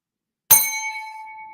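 A single bright metallic ding strikes sharply after a moment of silence, then rings out and slowly fades.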